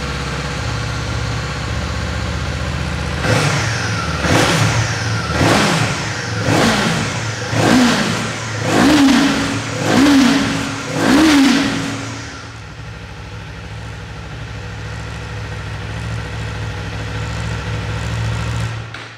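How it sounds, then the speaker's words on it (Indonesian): A 2024 Kawasaki Eliminator's inline two-cylinder motorcycle engine blips through about eight sharp throttle revs in a steady rhythm, close and loud over a rumbling idle, before settling back to a steady idle. "suara mesinnya khas seperti mesin-mesin 2 silinder segaris pada umumnya"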